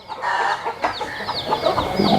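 A breeding rooster raised for Sankranti clucks and calls close by, several short rising squawks in a row with little else around.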